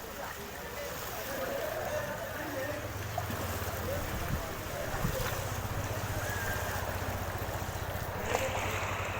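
Floodwater runs like a canal down the middle of a street among submerged houses, a continuous broadband rush mixed with wind buffeting, and a voice talks over it.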